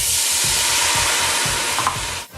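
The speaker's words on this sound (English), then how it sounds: "I'm going to take half a cup of red wine here and dump that in" Red wine hits a hot pan of onions and garlic, bursting into a loud, steady sizzle with rhythmic stirring scrapes underneath, ending in a short soft clatter.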